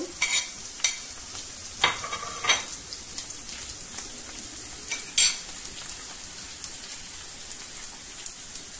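Chopped onion, garlic and green chili fry in a pan while a spatula stirs, a soft continuous crackling sizzle broken by sharp scraping clicks of the utensil, close with no talk.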